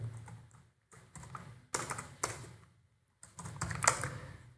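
Someone typing C++ code on a computer keyboard, close bursts of key taps separated by short silent pauses.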